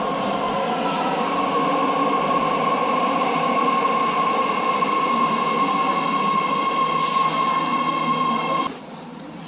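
Metro train interior with a steady, loud rumble and a sustained tonal whine throughout, a brief brighter hiss partway, then the noise drops sharply near the end.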